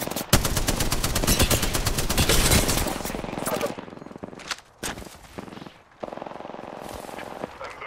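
Automatic gunfire in Apex Legends, a dense rapid burst for the first few seconds followed by shorter bursts and single shots, loud and close.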